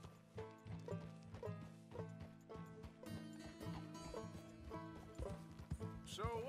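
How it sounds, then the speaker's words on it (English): Horse hooves clip-clop steadily in Red Dead Redemption, a rhythmic trotting pattern heard over a busy orchestral game score, with a brief whinny-like sound near the end. "Just get on the horse."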